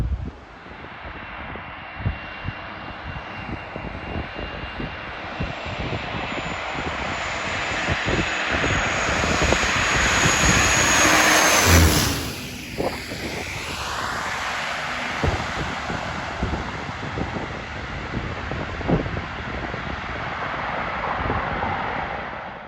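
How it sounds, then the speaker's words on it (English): A de Havilland Twin Otter propeller plane lands on the beach at Barra, Scotland, its engine drone swelling loud as it passes directly overhead, then fading, with steady wind buffeting the microphone throughout. "I was quite relieved to see that twin otter come over the horizon. But yeah, recording it landing straight over my head"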